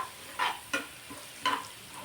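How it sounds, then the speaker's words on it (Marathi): Chili chutney sautés in a kadhai, a faint sizzle broken by three quick scraping stir strokes close by, with no voices. "चटणी थोडीशी परतली की ही आपण भाजी या कढईमध्ये टाकणार आहोत"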